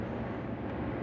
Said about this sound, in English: Sorry about that loud ass plane